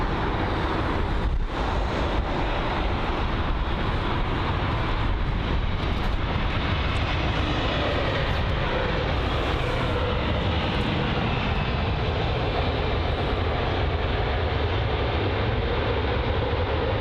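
American Airlines Boeing 787-9 airliner at London Heathrow, a loud continuous jet engine roar that holds steady throughout, no talking.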